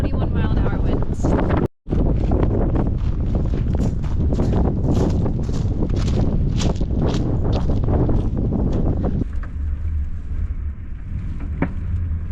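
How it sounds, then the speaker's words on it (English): Strong wind of about 21 mph buffeting the microphone outdoors near Lee's Ferry, a loud continuous roar with gusty swells and a brief dropout early on, dying down near the end. "21 mile an hour winds."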